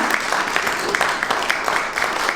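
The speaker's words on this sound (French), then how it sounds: "Madame Amélie Gondanga, que je vous demande d'applaudir, qui est là." Applause from the audience at an award ceremony held in the French Senate, a steady crowd of hands clapping at moderate loudness, continuous through the short stretch with faint voices mixed underneath.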